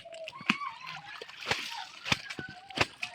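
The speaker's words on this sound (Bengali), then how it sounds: "স্নান করছি আমরা কত বছর পরে পুকুরে" Water sloshes and splashes in a village pond as people bathe, with repeated sharp splashes at an irregular rhythm close by, and faint voices underneath.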